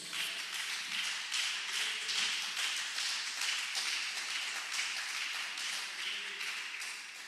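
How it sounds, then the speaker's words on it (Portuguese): A church congregation applauds during a sermon, a dense, steady wash of many hands clapping at moderate volume that continues without a break from start to finish. "Alguém pode aplaudir a Jesus?"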